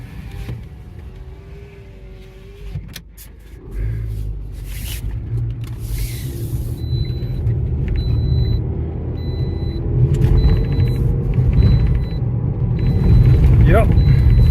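A Toyota RAV4 with a suspected rear hub bearing fault drives along, its low road rumble and drone building steadily as speed rises, loud inside the cabin, with someone talking over it in places.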